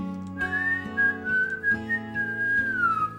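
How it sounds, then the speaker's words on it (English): A steady melodic whistle carries a wavering tune over layered sustained chords in the background music of the PlayStation 2 rhythm game Gitaroo Man, continuous and prominent for the whole stretch. "even like the whistle in the background"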